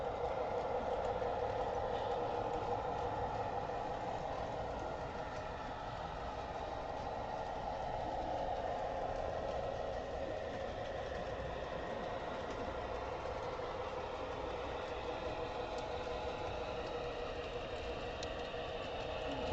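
A Broadway Limited model train locomotive runs steadily on a loft layout, giving a continuous, even mechanical rumble and whir that holds at a constant level throughout, with no talking.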